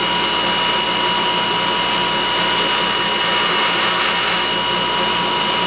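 A mill attachment grinds steadily, giving a loud, continuous, whining mechanical roar that holds at the same level throughout with no pauses.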